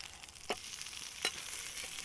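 Fish frying on a hot tawa beside the river at Hogenakkal, a steady sizzle broken by two sharp bursts as the pieces are turned over.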